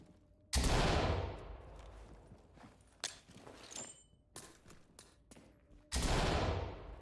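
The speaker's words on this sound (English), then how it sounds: "Throwing a flashbang." A flashbang grenade detonates in the tactical shooter Ready or Not, two loud full-band blasts a few seconds apart with scattered footsteps and clatter in between.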